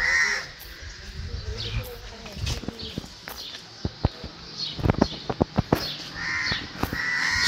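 Crows caw repeatedly on a morning in a village near Baglung, Nepal, with louder calls at the start and end and a run of sharp clicks and taps in between.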